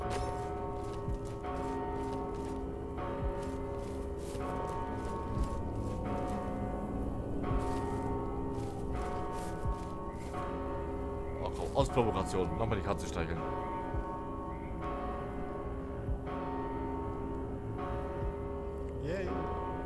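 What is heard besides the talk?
bell ringing in the video game Mortal Shell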